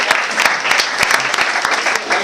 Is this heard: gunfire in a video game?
no